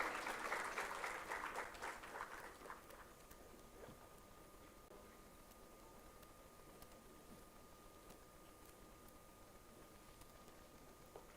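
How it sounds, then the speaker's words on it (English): Applause at an inauguration ceremony: a few seconds of crisp group clapping that quickly thins to scattered claps and fades away, leaving a quiet room with a faint steady hum. "A big round of applause for them, please."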